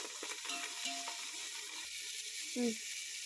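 Tomatoes and coriander leaves are stirred in a frying pan, with quiet sizzling under a few soft scrapes of the spoon and one fuller scrape near the end.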